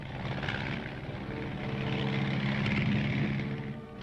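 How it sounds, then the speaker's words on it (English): An L-19 observation plane drones steadily overhead, a continuous propeller engine hum that swells slightly in the middle and eases off at the end, heard alone. "Among the aircraft used are the L-19, a standard observation plane."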